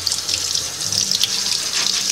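Tap water runs steadily into a kitchen sink as food is rinsed, a continuous close hiss and splash with no talking.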